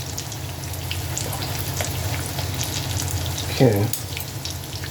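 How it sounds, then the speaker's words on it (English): Apple fritters sizzle and crackle in hot frying oil at close range, a steady bubbling hiss broken by a short spoken remark near the end. "Let that fry for a bit."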